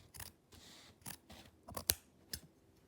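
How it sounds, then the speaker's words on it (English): Scissors snipping through a crocheted garment marked with chalk and pins: a quiet series of short, crisp cuts, about six distinct snips at uneven intervals, close to the ear with no talking. "I figured I'd cut it at 31 inches"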